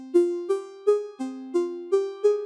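A Vital software synthesizer plays a saw wave pitched up an octave and layered with a sine wave, seven clean plucked notes in a steady bouncing rhythm, alone.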